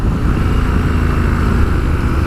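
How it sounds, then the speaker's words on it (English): A 2019 Triumph Scrambler 1200 XC motorcycle with its stock exhaust gives a deep, throaty low burble, a steady rumbling engine note heard close and fairly loud with no talking. "it's got a really throaty burble to this exhaust"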